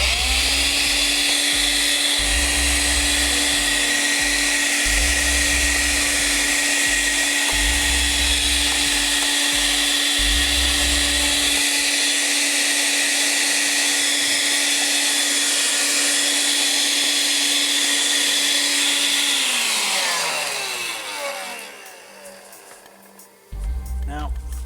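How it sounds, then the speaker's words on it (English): A vacuum cleaner runs loudly and steadily while an old Stratocaster guitar is cleaned, its motor whine holding for about twenty seconds before winding down and stopping near the end. "Let me give this another zap with the vacuum cleaner."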